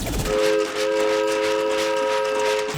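A sustained multi-tone train horn blares loudly for most of the stretch, briefly dipping once before holding steady, over a rumbling rail background.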